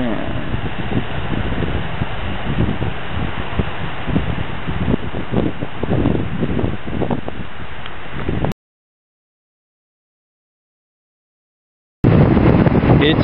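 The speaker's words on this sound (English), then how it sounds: "It's very windy." Strong wind buffets the microphone at a beach headland, roaring and gusting in a steady rush, broken by a few seconds of silence before resuming loudly; a voice speaks faintly under it.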